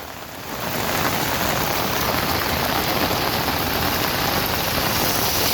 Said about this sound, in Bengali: ১৫০ মিলিমিটার উপরে বৃষ্টি হচ্ছে।